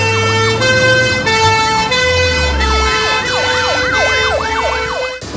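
A fire brigade emergency vehicle arrives at a school landslide drill with its siren blaring loud and close: steady tones first, then a rapid rising-and-falling yelp, with a deep engine rumble underneath.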